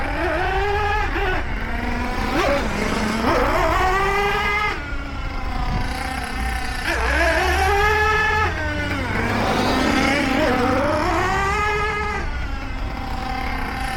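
Hobao Hyper7 .28 nitro RC buggy engine running, a loud, high buzzing whine that rises and falls in repeated revving sweeps, steady and close throughout with no speech.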